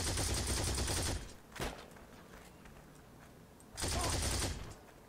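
An MG42 machine gun in the online shooter Heroes & Generals fires a long, dense burst, followed by a short pop, a quiet gap with faint footsteps, and then another sustained burst.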